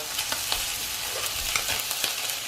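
Halibut pan-frying in butter, a dense continuous sizzle and crackle with faint scattered spatters, close and steady throughout.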